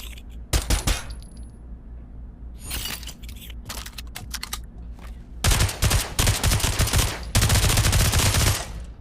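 Uzi submachine gun in the Pavlov video game: metallic clicks and clatter from the charging handle, then short bursts of rapid automatic fire, loud and close, with the final bursts longest.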